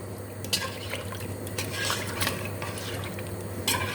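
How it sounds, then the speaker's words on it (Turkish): Water being added to a pot of boiling chicken while a utensil scrapes the caramelized, stuck bottom, giving a low bubbling simmer broken by several sharp metallic scrapes. "Su ilave etmeye devam ediyorum. Dibini açıyoruz biraz yapışmıştı."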